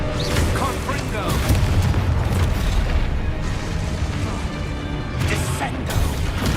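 A Confringo blasting spell explodes during combat in Hogwarts Legacy, a loud booming blast amid dense crashing and mechanical clatter, with a voice calling out over the continuous loud action.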